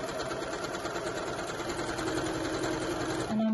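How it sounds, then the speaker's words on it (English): A sewing machine runs steadily, back stitching fabric, with a continuous close mechanical whir throughout and a brief change in tone near the end, with no talking. "So let's start off with a back stitch."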